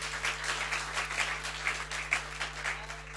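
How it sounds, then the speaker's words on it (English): Audience applause at the British Independent Film Awards ceremony, a steady, fairly dense wash of clapping from a crowd that holds even for a few seconds, with faint hum beneath. "She deserves a round of applause"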